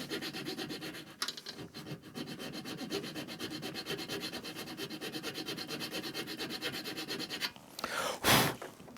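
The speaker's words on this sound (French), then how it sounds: "Je vais la limer." A hand file rasps rhythmically across a metal burr on a workshop air heater, with fast, even back-and-forth strokes heard up close and a louder scrape near the end.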